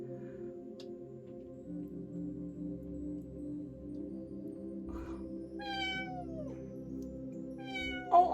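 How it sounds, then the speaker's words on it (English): A pet cat named Scooby meows two or three times, clear drawn-out cries that fall in pitch, nearby and moderately loud over a constant low hum, with no talking. "Why is it they always want to meow at you while you're in the middle of something?"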